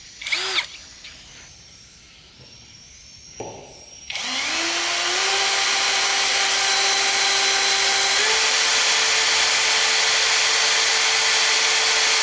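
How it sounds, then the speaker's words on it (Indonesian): An MLHY brushless cordless hammer drill with 60 Nm of torque bores steadily for several seconds after a couple of brief test bursts, its loud motor whine holding a constant pitch and rising slightly partway through. "Sekarang kita coba praktekkan bagaimana ketika digunakan untuk mengebor"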